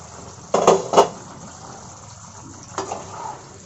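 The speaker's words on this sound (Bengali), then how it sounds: "তো আমি একটু ঢাকাটা খুলে নেড়ে নেব।" A lid lifted off a pot of hariyali chicken curry with a metallic clank, a second knock, then a spoon stirring the thick, bubbling gravy quietly, with a soft background hiss and no talking.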